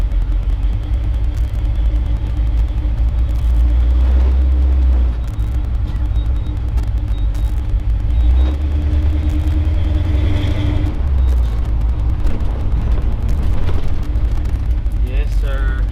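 A 1983 Chevrolet C10 pickup truck drives with a loud, continuous low engine rumble and road drone, revving up and settling at moments, while someone talks over it.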